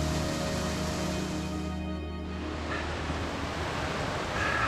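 Steady rushing water of a mountain stream beside a path on Pelion near Portaria, among plane trees and vines, a constant broadband wash heard close and alone with no speech.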